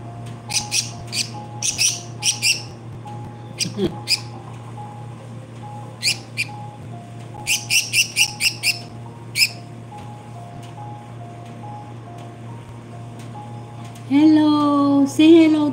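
A pet bird indoors gives quick, high chirps in short clustered bursts over a steady low hum, with pauses between groups, and a person's voice rises briefly near the end.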